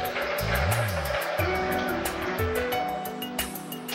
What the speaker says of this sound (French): je vais remplir le contenant du Vitamix avec ma belle bouteille d'eau purifiée